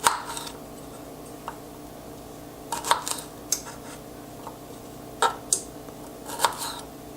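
A knife trims the ends of Brussels sprouts while the outer layers are peeled away, giving a series of sharp, close clicks and taps against the cutting board, spaced irregularly.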